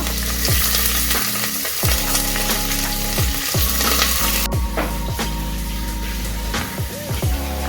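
Two onions hitting a very hot pan with garam masala for egg biryani, a loud continuous frying sizzle with repeated rhythmic stirring strokes scraping through it, no voices.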